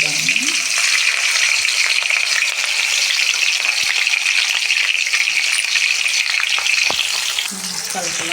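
Sliced onions and green chillies fry loudly in hot oil, a constant dense sizzle close up with stirring scrapes and a few clatters, brief speech faintly at the start and end.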